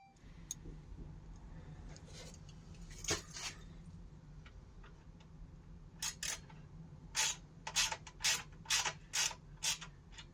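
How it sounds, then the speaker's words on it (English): Screws being tightened to fix a storage bag bracket on a Can-Am Ryker, quiet scattered creaks and mechanical clicks, then a rapid run of ratchet-like ticks near the end over a low hum. "We're just going to tighten up these screws, bolts, screws, whatever you want to call them."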